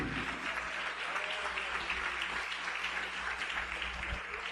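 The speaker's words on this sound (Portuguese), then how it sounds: "vamos juntos aplaudir a Jesus com muita alegria" A church congregation applauds during a worship service, a dense, steady wash of clapping from a large crowd lasting the whole moment.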